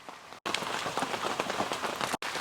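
Steady rain falls in a large home vegetable garden, a dense even patter of drops across plants and soil, close and continuous with no talking.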